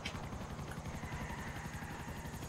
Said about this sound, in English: This guy's helicopter's blades launched me a he just crashed into a plane.